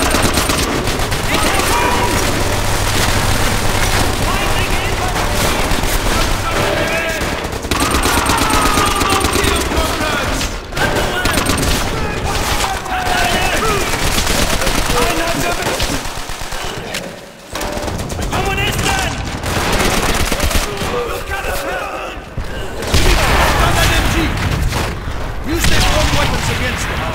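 Dense, loud gunfire from Call of Duty: World at War, including rapid machine-gun bursts and booms, runs almost continuously with a few short gaps and voices mixed in.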